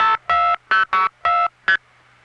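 Six crisp multifrequency tone bursts from a 1975 telephone trunk send digits in quick uneven succession, each a short loud beep with brief gaps, over a faint steady line hum, no voices.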